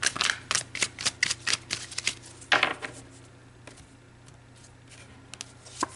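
Tarot cards being shuffled and pulled: a run of quick, crisp riffling flicks and taps close by, then a pause with only faint room hiss and a few light card snaps near the end.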